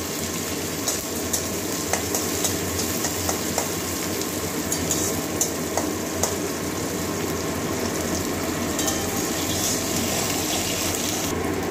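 Chopped onion and green chili sizzle steadily in a pan with oil, a continuous close hiss broken by faint pops and occasional clicks of stirring, with no one talking.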